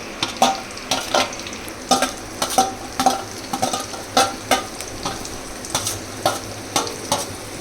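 Onions sautéed in a pan for chicken gravy, stirred with a spoon in steady repeated scrapes over a continuous close, loud sizzle, no talking.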